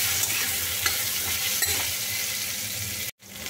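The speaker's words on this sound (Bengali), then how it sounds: "এবার আমি একটু ঢাকাটা দিয়ে আলু গাজরটা একটু ভেজে নিচ্ছি।" Potatoes and carrots with salt and turmeric sizzle steadily in a pan while a spatula scrapes and stirs them. The sound is close and constant, then cuts out abruptly near the end before resuming.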